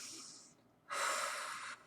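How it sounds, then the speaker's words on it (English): Two breathy airflow sounds come close to the microphone: a shorter, softer intake first, then after a brief pause a longer, louder, strong deep breath that stops abruptly. "but take a deep breath"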